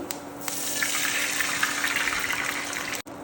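A little water is poured into a pan of green chilli and chutney tempering for rice-flour dhokla, giving a steady close splashing gush for about three seconds before it stops.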